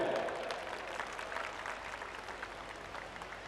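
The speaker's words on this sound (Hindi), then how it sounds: "एक बार जोरदार तालियों से सर का स्वागत किया जाए" Applause at a college cultural fest as the director is welcomed to address the gathering, a continuous rattle of clapping from the crowd, moderately distant and fairly quiet, with no talk over it.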